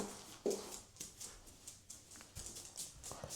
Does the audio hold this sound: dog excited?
yes